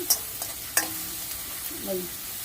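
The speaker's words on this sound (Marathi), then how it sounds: "आता हे चांगलं हलवून घेते मी. हे छान असं परतून घ्यायचं." Cumin, chili and garlic are sautéed and stirred in a pan for a Maharashtrian meal: a soft, steady sizzle, with a few light metallic clinks and scrapes of the spoon against the pan.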